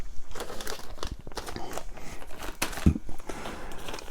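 A polythene bag holding plastic model kit parts for a 1/350 USS Cleveland crinkles and crackles steadily as it is handled close by, with irregular sharp rustles throughout.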